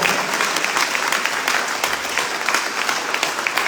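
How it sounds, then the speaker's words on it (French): Loud, dense applause from a crowd at a town hall reception for the Arsenal women's handball champions, cheering young players in a steady burst lasting a few seconds. "je vous demande de les applaudir très fort."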